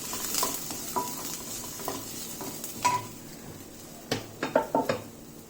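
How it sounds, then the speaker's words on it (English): Chili and onions sautéing in a pan for a kadai paneer dish, with a soft background sizzle and scattered scrapes of a utensil against the pan that grow sharper and more frequent toward the end. "Add the chili and saute again."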